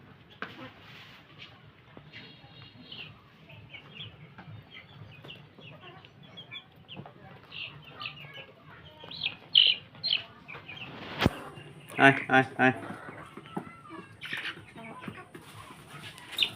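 Fayoumi hens cluck and squawk nearby at afternoon feeding, scattered at first and growing busier, while a person calls out to them.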